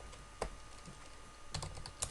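Typing on a computer keyboard while writing HTML code, a few quiet close key clicks in small bursts with pauses between, no talking.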